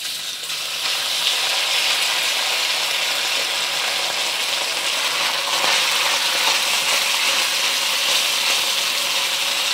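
Beef searing in vegetable oil in a hot pan, giving a loud, continuous, even sizzle with a steady hiss that never lets up.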